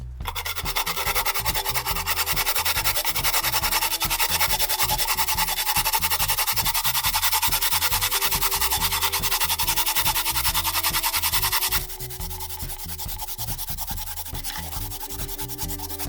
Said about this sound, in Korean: 강판에 물을 갈아줍니다.